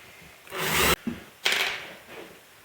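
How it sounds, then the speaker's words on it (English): A rotary tool mounted as a drill press bores countersinks into wood for screw heads, with two short high-pitched whirring bursts, each lasting about half a second, separated by a pause. "Now I need a countersink on each one of these holes for the head of the screw."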